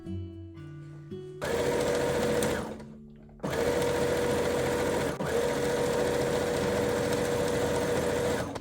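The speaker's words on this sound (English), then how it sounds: "I'm going to serge that." A serger stitches lace onto the bottom of a nightgown sleeve in loud, close, steady bursts of rapid mechanical whirring, stopping briefly midway before running on continuously.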